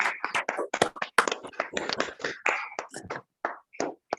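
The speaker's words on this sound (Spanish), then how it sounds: "Quisiera que le brindáramos un fuerte aplauso a la magistrada Claudia Vallegues" Scattered handclaps from a small group during a virtual electoral-justice conference, honoring a magistrate: sharp, separate claps in an uneven rhythm with brief silent gaps, close and dry.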